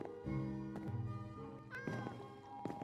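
A Minecraft cat on Xbox One meows several times, drawn-out tonal mews fairly close and clear over quiet game ambience, with no talking.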